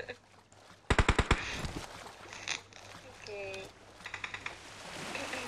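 A quick burst of rapid gunfire in PUBG Mobile, five or six sharp shots in a row, followed by softer game effects, electronic tones and faint voices in the background.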